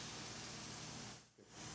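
A steady, quiet hiss of escaping steam from an Antunes CM-100 steam generator runs almost throughout, dipping briefly near the end before returning.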